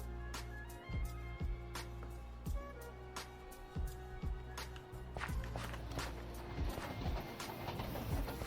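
Trains rolling along tracks in the Create Astral Minecraft modpack, a steady mechanical rumble with repeated sharp clacking beats and a rising hiss toward the end, fairly close, with no talking.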